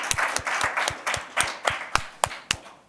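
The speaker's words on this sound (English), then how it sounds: "So big round of applause for them," A conference audience at a materials and manufacturing showcase claps for a panel: sparse, distinct hand claps with a loose rhythm, fairly close and moderately loud, thinning to a few separate claps by the end.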